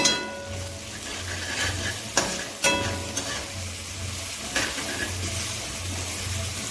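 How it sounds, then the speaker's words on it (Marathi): An onion and tomato mixture sautéing in a pan, with a steady close sizzle broken by occasional scrapes and clinks of a spoon stirring, and no talking. "आता परतवत राहायचं आहे जेणेकरून करपणार नाही"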